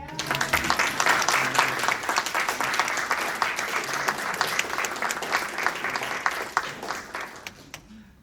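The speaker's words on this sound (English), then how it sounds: "let's give her an applause" Audience applause at a flute convention showcase, a full room clapping warmly and steadily, with a few voices under the clapping before it fades out at the end.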